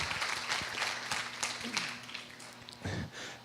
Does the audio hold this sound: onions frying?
no